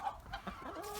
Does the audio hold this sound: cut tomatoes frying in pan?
no